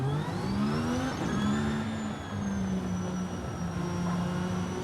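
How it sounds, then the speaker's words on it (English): A hybrid V6 engine of a 2021 Mercedes-AMG ONE in Forza Horizon 5 revs and drones with a rising and falling whine and an electric-motor hum on top, steady and fairly loud. "I do like the sound of the V6 with that electric motors,"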